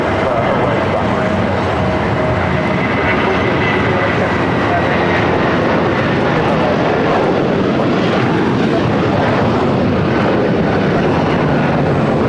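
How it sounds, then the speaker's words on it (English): A DHL Polar Cargo Boeing 777 freighter roars loudly and steadily at LAX, its broad engine rumble filling the whole stretch without pause. "777 freighter DHL Polar Cargo Flight 962"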